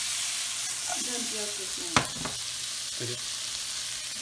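Tomatoes hiss and sizzle in a hot pan with oil as they go in, a steady frying crackle with a short clank of a utensil, while a person talks briefly over it.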